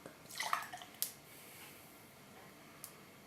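Home-brewed beer poured into a glass, a brief run of liquid splashing and fizzing near the start with a clink, then quiet foamy settling; faint and close, with no talk.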